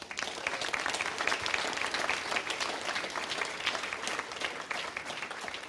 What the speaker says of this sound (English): Hopefully you can hear the applause a little from the room here as well.